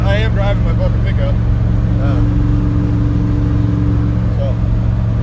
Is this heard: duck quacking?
no